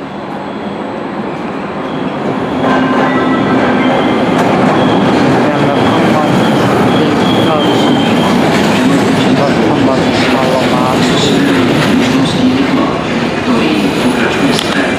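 A train arriving at a platform at Vrútky station in Slovakia rumbles and rattles continuously, loud and close, with wheels clattering on rails and a faint squeal as it rolls in.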